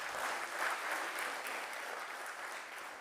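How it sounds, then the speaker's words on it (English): Steady audience applause at a regional state address in Erongo, a dense, even wash of many hands clapping, moderately distant and without talk over it. "Please give them a round of applause."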